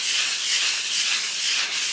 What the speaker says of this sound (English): went through bit by bit and kind of sanded it down to make sure it was a little smoother than what it was